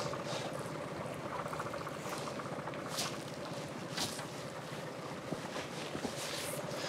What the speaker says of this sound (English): So I left the motor running, as you always should when you're in a rapid situation